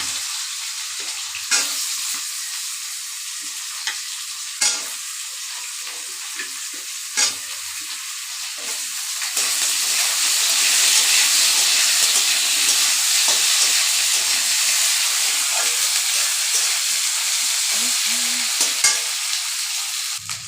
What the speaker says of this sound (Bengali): লগতে মই এই আলুখিনি ফ্রাই করে ল